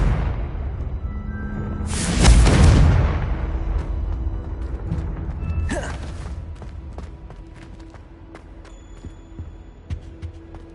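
Confringo explosive spell going off in Hogwarts Legacy: a heavy blast around two seconds in, a second sharp burst a few seconds later, then scattered clicks and debris-like ticks fading into a low rumble.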